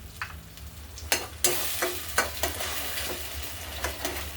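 A cashew and onion puree sizzles and fries in oil with tomato puree for a dhaba-style cashew curry, with steady frying hiss and several sharp spoon scrapes and stirring knocks against the pan.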